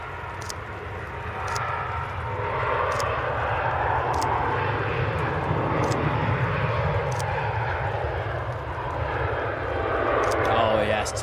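A fixed-wing airliner departing from Manchester Airport, a sustained, loud broadband engine roar that holds steady and swells slightly toward the end, with a voice speaking over it.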